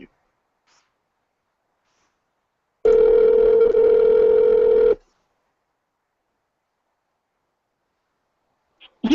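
A phone call sounds a single steady electronic ringback tone for about two seconds against silence, followed by a brief bit of speech at the very end.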